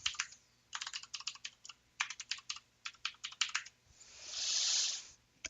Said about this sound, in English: type in your super secret password.